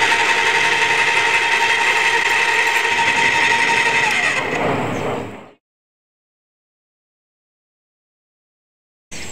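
A Graco 390S airless paint sprayer runs with a loud, steady mechanical whir and hum for about five seconds, then cuts off into silence before a brief burst at the end.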